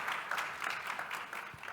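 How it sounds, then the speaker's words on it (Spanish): An audience at a health innovation summit panel in Chile applauds a speaker, a soft, distant-sounding patter of clapping that holds steady throughout. "Un aplauso para él."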